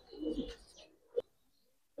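A pigeon in a loft coos softly: a low throaty rolling call at the start, then two brief hoots later, faint and fairly close, with no talk.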